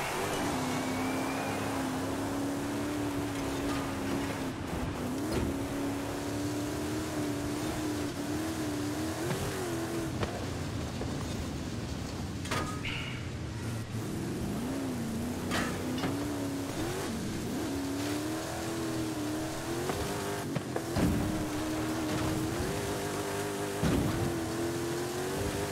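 A street racing car engine held at full throttle, a loud continuous droning roar that wavers in pitch as it revs, with brief dips and surges over about twenty-five seconds and no talking.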